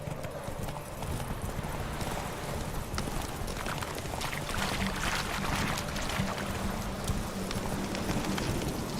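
Roach, Geralt's horse in the video game The Witcher 3, gallops with steady, rapid hoofbeats in a continuous clip-clop, close and moderately loud over a busy background of ambient game sound.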